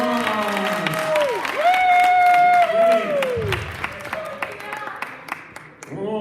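An audience at a spring improv comedy show claps and cheers under a loud, sweeping whoop and excited voices, with the applause staying steady and then thinning out into scattered claps.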